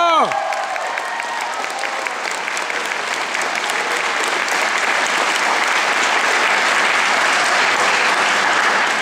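A concert audience applauds a youth orchestra after a world-premiere performance, starting with a final orchestral note fading out and swelling into sustained, loud, dense clapping from a large hall crowd.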